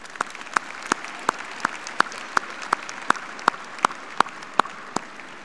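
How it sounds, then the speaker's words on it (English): A large audience at a high school graduation ceremony applauds the school board in a steady roar of clapping, with one loud nearby clapper beating out a regular rhythm on top. "please give a round of applause for the Socorro ISD Board of Trustees"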